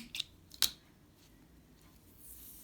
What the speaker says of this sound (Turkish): Hemen ipimi kesiyorum.